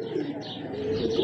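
High flyer pigeon kept for tournament flying, cooing and chirping softly close by in a brief, continuous burst with no voices.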